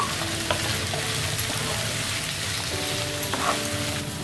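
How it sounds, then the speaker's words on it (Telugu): Potato pieces with turmeric are stirred in a frying pan for Andhra-style spicy aloo fry, giving a steady close sizzle and scraping stir sounds, with faint clinks at a few points and no talking. "పసుపు వేసుకొని మనం బాగా మిక్స్ చేసుకుందాము"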